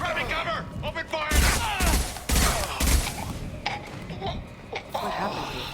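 Gunfire during a firefight in Mass Effect 2, a cluster of loud rapid shots and impacts over a couple of seconds, with a voice talking before and after the shooting.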